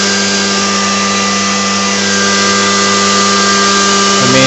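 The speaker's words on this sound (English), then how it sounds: "Watch the main motor. It turns on." The main motor of a wireless remote-controlled hovercraft runs with a steady, loud, close electric whine and hum that holds constant and swells slightly near the end, with no talking.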